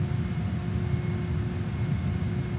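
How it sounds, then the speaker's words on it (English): A JAS-39 Gripen jet on reverse thrust after landing, heard as a steady, broad engine roar with a low rumble and a few faint whining tones, fairly distant and with no voices over it. "and he's on reverse thrust"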